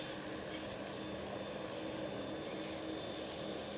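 Aircraft engines roar steadily at Schiphol Amsterdam airport, a continuous broadband rumble with no break, loud and fairly close, with no talk over it.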